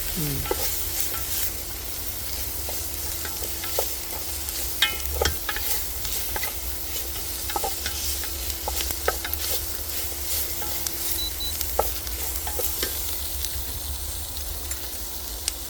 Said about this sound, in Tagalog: gisahin lang muna natin